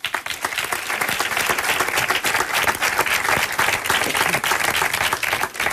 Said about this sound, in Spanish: El aplauso para el padre y este sueño cumplido